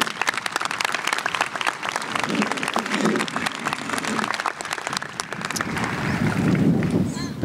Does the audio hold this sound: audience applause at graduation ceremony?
yes